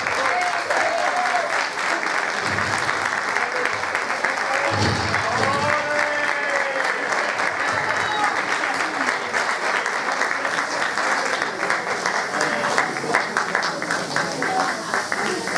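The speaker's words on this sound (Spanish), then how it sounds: "Hai que darnos un forte aplauso a todos." Loud, dense applause from an audience at a community centre anniversary festival in A Coruña, sustained and even throughout, with some crowd voices and calls mixed in.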